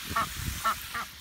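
Young ducks kept together with chickens give three short, nasal quacks in quick succession, fairly faint against a quiet outdoor background.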